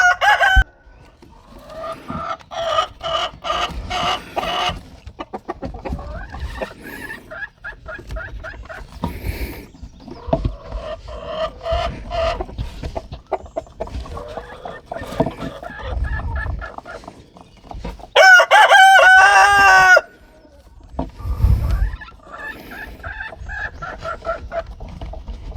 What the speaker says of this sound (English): notice we do have a rooster